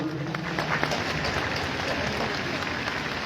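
A crowd claps at a Republic Day ceremony in Gopalganj, giving a dense, steady wash of applause that carries on evenly and fairly loud.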